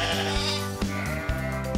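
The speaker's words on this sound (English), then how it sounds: "And look, there's the sheep." Sheep bleating in short, wavering calls over a steady tonal background.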